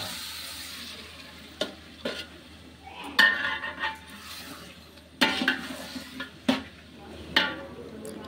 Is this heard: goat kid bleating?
no